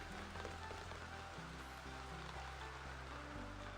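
Steady rainfall in the Hello Kitty Island Adventure video game, a soft continuous patter on surfaces heard over low background music, with no talking.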